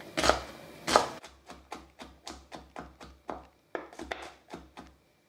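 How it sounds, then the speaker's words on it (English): A knife chops beans on a board in a quick, steady run of crisp taps, with two heavier strokes at the start followed by about a dozen sharp, evenly spaced cuts, close and clear with no talking. "I'm finally chopping the beans."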